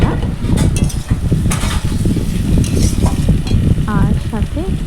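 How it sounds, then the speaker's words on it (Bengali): Taro pieces sizzle and crackle loudly as they fry with ground spices in a pan for a prawn curry, with steady frying hiss and intermittent scraping stirs throughout. "এই ভাজাটা ততক্ষণ হবে যতক্ষণ না মশলার সাথে কচুগুলো একটু লাল লাল হয়ে আসছে"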